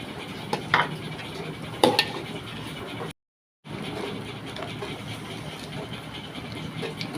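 Rice and chana dal fry together in a pot for rainy-day khichuri, giving a soft continuous sizzle with a few clinks and scrapes of a spoon against metal, interrupted by a brief silent gap.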